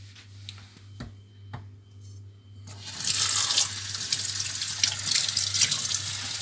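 Dorado fish being washed under a running tap: a few faint clicks and knocks, then water bursts on about halfway through and splashes steadily and loudly into a sink, with no one talking.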